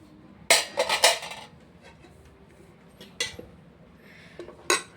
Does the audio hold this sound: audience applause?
no